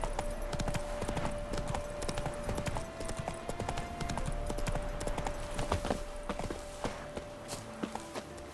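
Horse hooves clip-clopping at a steady pace in The Witcher 3 video game, close and continuous over a constant musical drone and game ambience, with no talk.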